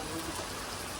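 Steady rain falls with a dense, even hiss of drops that holds throughout a short moment, fairly faint.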